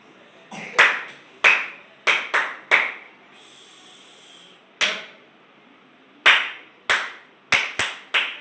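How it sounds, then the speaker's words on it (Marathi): Sharp, loud hand claps in a firecracker style crack out one by one in an irregular rhythm, about a dozen in all, each with a brief echoing tail, broken by a short stretch of faint background hum. "बघा फटाका टाळी"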